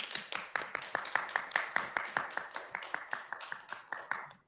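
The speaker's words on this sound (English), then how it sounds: "a round of applause for Tyler, everyone." Applause after a poetry reading, heard as a few people clapping in a quick, distinct rhythm of separate sharp claps, fairly close and fading out at the end.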